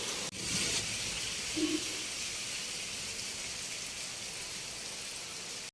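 Heavy rain falls in a village, a dense, loud, steady hiss of downpour on surfaces that continues unbroken with no voices.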